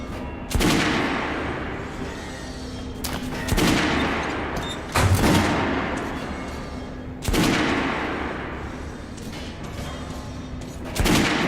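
Rifle gunfire on an underground shooting range in Metro Last Light Redux, loud close volleys in several bursts roughly every two seconds with echoing tails, no voices.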